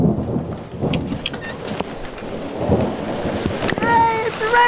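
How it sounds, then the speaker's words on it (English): A brief desert monsoon rain shower patters steadily on the surface around a converted school bus, with a low rumble of thunder underneath, loud and close throughout. "Hey, it's raining!"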